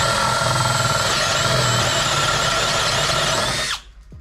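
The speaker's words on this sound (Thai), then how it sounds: "ต่อมาที่ผมจะใช้กับดอกลูกถ้วยแบบนี้นะครับ" A PUMA PM-245BL 20 V cordless drill fitted with a roughly one-inch hole saw bit bores into wood, whining steadily and loudly up close for several seconds before it cuts off abruptly.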